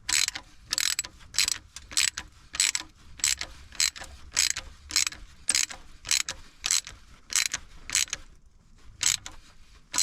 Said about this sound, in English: we're going to torque them to spec, which is basically as tight as they go.